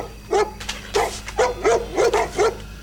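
Golden retrievers bark in a film scene, giving about six short, bright barks and yips in an irregular run, fairly close over a faint low hum.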